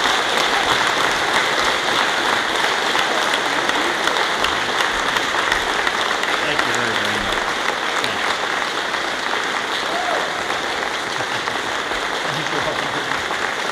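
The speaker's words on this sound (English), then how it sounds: "you all have to stand and give him a big round of applause" Sustained applause from a standing audience for Senator Tom Harkin at a Job Corps event in Ottumwa, a dense, steady wash of clapping that holds at an even level throughout.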